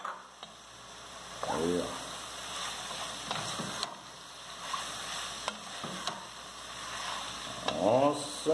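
Ground beef and bell pepper sizzle in a frying pan, a soft steady hiss under a voice speaking briefly, with occasional stirring scrapes.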